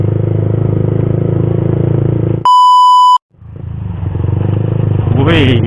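A motorcycle engine idles loudly and roughly up close, cut by a steady electronic beep tone, then its rumble returns and climbs in a brief rev.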